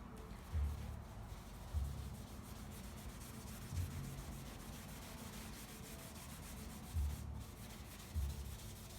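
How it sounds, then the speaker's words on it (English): Cloth rubbed by hand over car base coat paint, a soft, steady scrubbing swish with periodic low thumps as strokes change direction, close and quiet, no talk. "When you're polishing the base coat, you got to be careful that you don't polish too hard."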